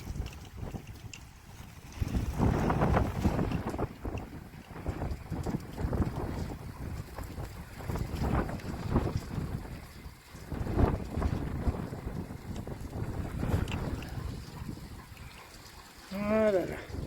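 Violent gusts of 70 to 90 km/h buffet the microphone outdoors, a roaring, surging rumble that swells and fades in waves, with a brief high tonal whine near the end.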